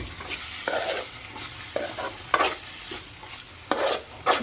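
Egg curry being stirred in a pan, the spoon scraping in repeated strokes about every second over a soft continuous sizzle, close and fairly loud with no talking.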